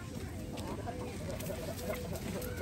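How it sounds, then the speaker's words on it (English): A chicken at a zoo clucks amid a busy, noisy outdoor background, with low murmuring voices mixed in throughout the short stretch. "AJ, you want to feed the chicken?"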